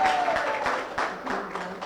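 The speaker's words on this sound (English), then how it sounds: "Give her a round of applause again." An audience at a World Down Syndrome Day event gives a brief round of applause for a speaker, with clapping heard under a voice talking.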